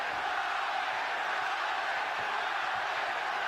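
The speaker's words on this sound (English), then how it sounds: "Pro Chavez crowd chanting already." Large boxing crowd chanting for Chavez at an arena fight, a dense, steady roar of many voices filling the space without clear breaks.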